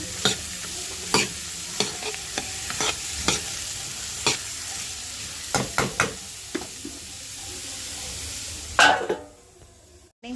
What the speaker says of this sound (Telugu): బీట్రూట్ అంతా వేసేసి కలిపేసుకొని ఒక ఐదు నిమిషాలు మోతుంది